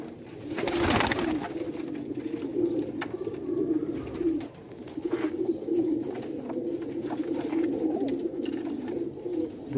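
Sialkoti pigeons with white necks coo steadily in a loft, a dense chorus of overlapping low, rolling coos running throughout at close range, with a brief flutter of wings near the start.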